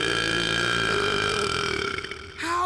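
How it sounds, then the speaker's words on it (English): A cartoon character gives a long, loud, sustained burp with a steady buzzing tone that drones for over two seconds, then breaks off and starts again with a rising sound. "just practicing for the next burping tournament"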